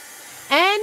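Hair dryer blowing warm air onto chalk-painted patriotic farmhouse decor, switching on abruptly after a quiet moment and roaring steadily and close with a rising whine.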